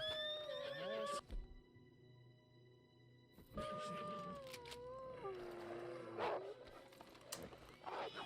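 A horse in the video game Red Dead Redemption whinnies in a long, wavering cry, then neighs again after a short quiet gap, with faint background sounds throughout.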